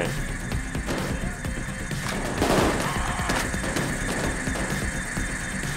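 Gunfire in Payday 2 rattles in dense bursts of automatic shots over a busy game mix, sustained and loud with brief pauses, no talk over it.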